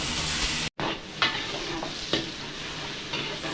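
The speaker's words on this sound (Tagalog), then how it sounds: "every time na may order, gisa lang ng gisa si Jepoy." Garlic and onion sauté in a restaurant kitchen, a steady loud sizzle and frying hiss with a few scraping stirs of a utensil against the pan, close by with no talking.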